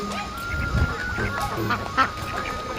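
Ducks quack and honk on a pond-side duck farm in Bangladesh, several birds calling close by in overlapping bursts.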